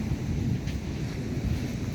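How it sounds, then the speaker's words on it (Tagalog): Strong ocean waves at San Juan Beach in La Union, heard as a continuous low roar of surf mixed with wind buffeting the microphone, steady and loud throughout with no voices. "Ang lakas nga ng alon"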